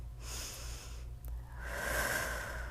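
Breathy exhales during a PiYo morning stretch-and-strengthen workout, two soft airy bursts separated by a short pause, the second longer and stronger, heard close up with no talking over them.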